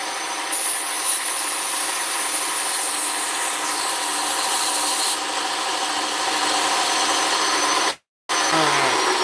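A knife blade is sanded by hand along a flat bevel to remove scratches, giving a steady, close abrasive rubbing that runs almost without a break and cuts out briefly near the end.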